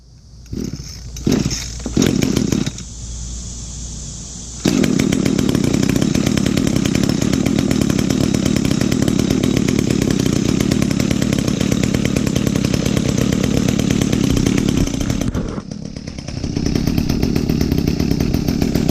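An Echo GT 200R string trimmer with a replacement carburetor sputters and revs through short bursts, then runs at a loud, steady rasping drone, briefly drops, and picks back up, close by.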